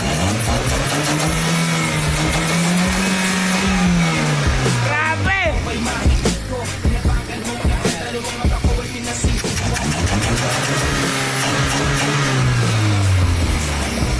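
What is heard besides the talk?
car engine revving after downgrade to stock carburetor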